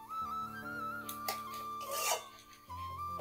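Spice masala with tomato is stirred in a pan, giving soft scraping and rasping strokes at close range, with a few brief louder scrapes over a steady tonal background.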